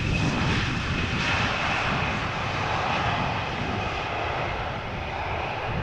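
An Embraer jet airliner roars at Amsterdam Schiphol Airport, a loud, steady broadband engine rush filling the whole clip with no talk over it.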